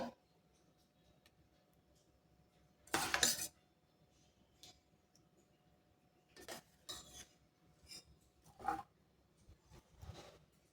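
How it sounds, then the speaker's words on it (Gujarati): Mango pulp mixture for aam papad being stirred and spread in a metal plate, heard as sparse, quiet clinks and scrapes of a utensil on metal. One louder burst of scraping comes near the start, then shorter clusters follow. "આમ આપણે હલાવીશું એટલે બધો જ રસ થાળીમાં એક થઈ જશે"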